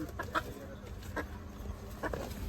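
Kadaknath chickens being sold give a few short clucks at moderate distance, scattered through a quiet, low-level background.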